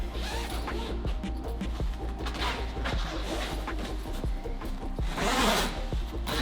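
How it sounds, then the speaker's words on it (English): A long, continuous zipper rasp from a rooftop tent door runs steadily for several seconds, close and fairly loud, rising slightly near the end with no voices. "Sometimes I'll zip these down a little bit to keep some extra tension on that."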